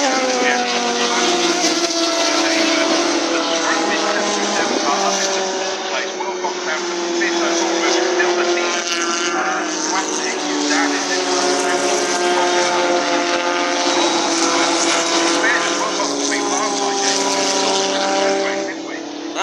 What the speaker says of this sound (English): let's watch some cars racing around this Castle Combe circuit in Wiltshire